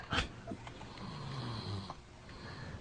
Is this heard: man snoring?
yes